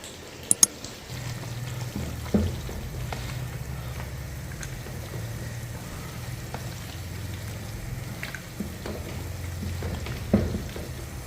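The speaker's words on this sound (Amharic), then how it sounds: "ውሃን ፈልቷል። እዚህ ጋር ሩዝንም እንጨምራለን።" Rice poured into a pot of boiling water in a home kitchen makes a steady low bubbling and rumble, with a few sharp clinks at the start and soft splashes scattered throughout.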